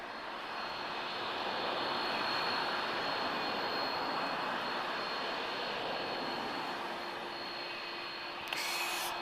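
Airplane taking off from a runway intersection at Lisbon Airport, a loud sustained jet engine roar with a steady whine, holding strong throughout with no voices.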